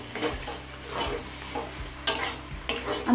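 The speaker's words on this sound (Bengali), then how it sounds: "গুড়টা দিয়ে ভালোভাবে মিশিয়ে নিয়েছি" Jaggery being stirred into kochu shak labra, a mixed vegetable curry in a pot, as a soft continuous stirring and gentle sizzle with two sharp metallic clinks partway through.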